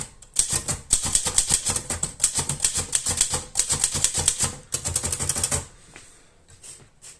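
Rapid, loud keystrokes on a Remington typewriter clatter in dense bursts, pausing briefly before trailing off into quieter mechanical clicks near the end.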